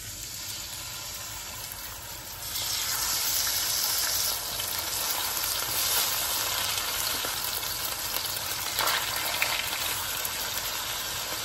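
Chicken breasts fry in avocado oil in a pan, and a loud, dense sizzle builds up and then holds steady. No one speaks.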